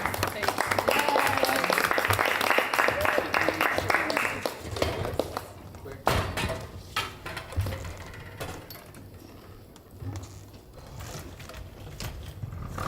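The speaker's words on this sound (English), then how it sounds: "Can we get another round of applause for the actor?" Audience at a staged verbatim play reading applauds the actor, a strong burst of clapping for about four seconds that thins into scattered claps and room noise, with talking afterward.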